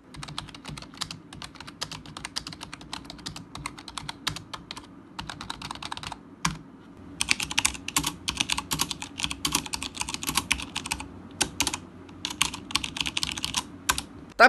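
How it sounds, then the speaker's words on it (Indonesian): ASUS TUF Gaming K1 keyboard being typed on up close, a rapid, dense clatter of key presses in uneven bursts with brief pauses, loud throughout. "Keyboard mechanical typing best lah, sebab dia ada bunyi kecak-kecak-kecak-kecak kan."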